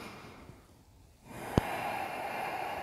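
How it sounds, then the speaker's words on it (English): Breathing in and out through the nose during an intermediate yoga class with inversions: a soft inhale, then a sharp snort-like burst of air followed by a steady hiss of exhaling, close and quiet. "Breathing in and out through your nose, engaging your core"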